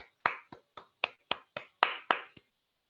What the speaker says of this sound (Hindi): तो चलिए तालियों के साथ उनका स्वागत करते हैं।